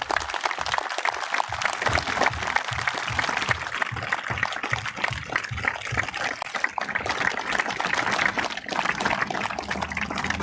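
Applause for a family at an outdoor sports field grand opening ceremony, a broad, crackly wash of clapping from a crowd that carries on steadily at moderate loudness with no voices.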